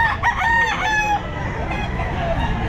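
A Lemon Sweater rooster crows loudly and close at a Grotto pet market, its long wavering call standing out over a constant bed of market chatter and background noise.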